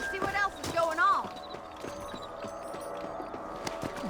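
Horse hooves clop in a quick rhythm in the Western video game Red Dead Redemption, running beneath a neigh and game speech, moderately loud and steady.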